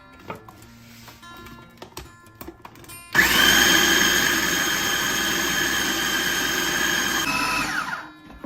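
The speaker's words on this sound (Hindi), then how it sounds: "अब हम सीड्स को ग्राइंड कर लेंगे।" An electric grinder grinding seeds for panjiri starts with a loud whirring roar after some soft clicks and handling sounds. It runs steadily with a high whine for about four seconds, then winds down.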